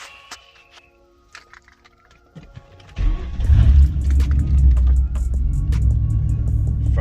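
A car engine fitted with an N2MB WOT box cranks and fires up about three seconds in, then idles loudly and steadily up close with a deep rumble.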